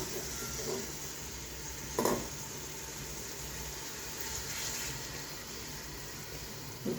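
Chopped onion sizzles in oil in a tagine pot, a soft steady frying hiss with a couple of brief clatters of stirring or utensil contact, fairly quiet and uninterrupted by talk.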